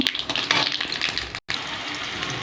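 Spices frying in hot, smoking oil in a home kitchen while cooking jackfruit and potato fry, a steady crackling sizzle with bursts of spattering, briefly cut off by a short gap before resuming.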